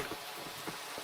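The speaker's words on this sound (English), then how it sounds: "Why is it raining?" Rain falling in a video game during an anniversary celebration, a steady, hissing patter with a few soft drop-like taps, moderate and continuous, with no voices.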